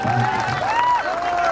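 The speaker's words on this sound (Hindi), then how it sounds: "यह बात एक बार इनके लिए जोरदार ताली चाहिए" An audience at a live Bhojpuri song show claps and cheers in a noisy wash, partly under a voice.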